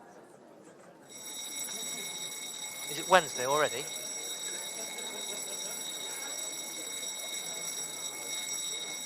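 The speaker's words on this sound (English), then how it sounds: "In ours, it was a fire alarm going off." Fire alarm sounding loud and continuous with a steady high-pitched electronic tone, starting abruptly and running throughout, with a short spoken question over it.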